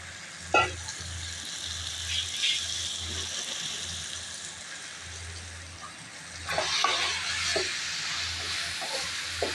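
Chicken sizzles steadily in a hot pan, with occasional clatters of stirring and a louder burst of frying partway through.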